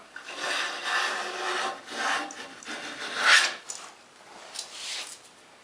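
A hand plane cuts along a wood edge to form a spring joint, making a series of close, rasping strokes that each swell and fade, about five passes with short pauses between.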